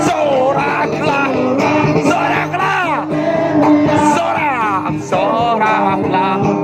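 A youth crowd at a church youth gathering shouts, yells and cheers loudly and continuously, with rising whoops and chant-like calls layered over one another and a leader's voice heard among them.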